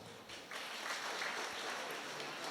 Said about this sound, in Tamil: மாணவர்கள் மட்டும் தங்கள் பெற்றோர்களுக்காக ஒரு கைத்தட்டல் கொடுங்க